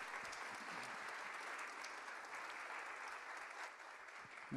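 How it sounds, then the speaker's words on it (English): Clapping from a conference audience after a speech on the health agenda at the G20 2024 in Rio de Janeiro forms a steady, even wash that sounds rather quiet and distant, with no talking, for a few seconds. "I hope you heard the applause from our audience."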